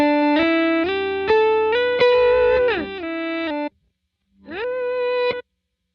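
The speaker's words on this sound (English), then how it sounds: "Reverse delay, just that." An electric guitar through a Line 6 reverse delay effect plays a phrase of notes that swell in backwards with a smeared, echoing texture, then a short gap and a final swelling note.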